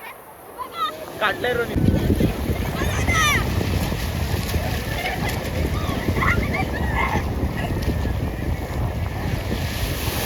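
A big sea wave rolls in on the Konkan coast, a broad loud roar of surf and wind buffeting the microphone, with people talking briefly near the start.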